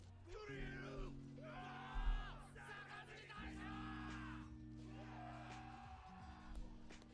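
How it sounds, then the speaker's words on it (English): A shouting, cheering crowd from a One Piece anime episode, rising in loud overlapping yells and whoops over a sustained low musical drone, with a brief louder burst partway through. "And they cheer"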